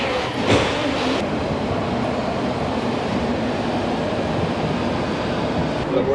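A London Underground train pulls into Farringdon station, with a steady loud rumble and rattling carriages heard from on board.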